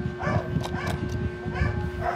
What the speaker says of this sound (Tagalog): So maraming aso mga idol